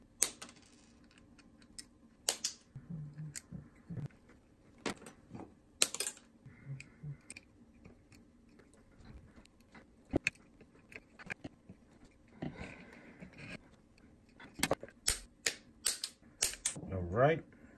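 Component leads on a circuit board for a DIY powerwall battery management module are snipped in a series of sharp, isolated clicks with quiet gaps between them, close up and under intermittent talk.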